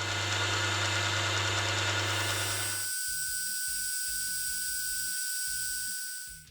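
A milling machine with a dividing head cuts a J shape into a part for a bolt action retractable scribing tool, a steady mechanical whine and hum that shifts to a lighter, rhythmically pulsing tone partway through before fading out.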